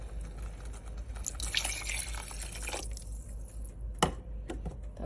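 Water is poured into a cooking pot for a soya potato curry, a short splashing gush that trails off into drips and a single clunk, close and moderately loud over a low background hum.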